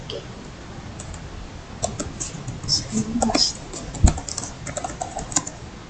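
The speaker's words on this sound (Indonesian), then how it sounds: "dalam kotak pencarian kita cukup mengetik master Slims" Rapid clicking of computer keyboard keys as a search term is typed into a library automation program, close and fairly clear, with a voice talking softly over it.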